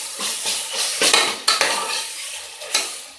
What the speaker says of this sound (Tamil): இஞ்சி பூண்டு பேஸ்ட்டு 2 ஸ்பூன் சேர்த்தாச்சு. நல்லா வதக்கி விடுவோம்.